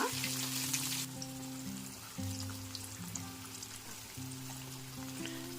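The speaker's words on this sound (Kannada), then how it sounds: "ಅದು ಸ್ವಲ್ಪ ಎಣ್ಣೆಯಲ್ಲಿ ಕರೆದ್ರೆ ಸಾಕಾಗಿರುತ್ತೆ" Marinated paneer fries in oil with a faint, steady sizzle and light crackle, partly masked by soft tonal background sounds.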